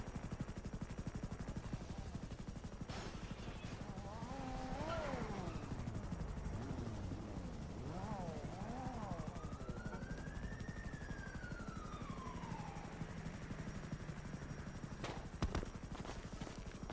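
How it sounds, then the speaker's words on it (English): Police helicopter in the video game FiveM, a steady distant rotor drone running throughout under faint game sounds, with a rising and falling siren-like whine partway through. "the cop car may not know you're here, but the helicopter will be telling them you're here"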